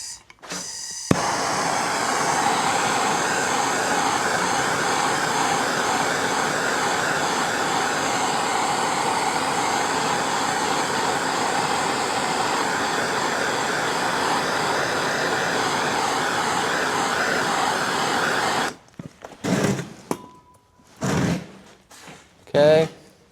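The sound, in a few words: heat gun shrinking heat shrink tubing on wires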